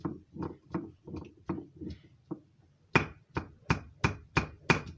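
Tulsi leaves pounded by hand, a steady run of dull thuds, then a short pause and a sharper, brighter series of strikes, close and alone.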